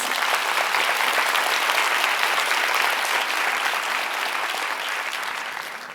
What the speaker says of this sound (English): Can I just give them a round of applause, please?